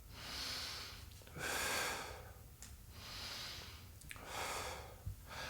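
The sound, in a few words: breathing in and out during a glute exercise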